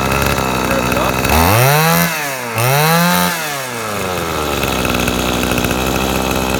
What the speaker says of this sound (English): So we'll get it started here and just show you how it runs.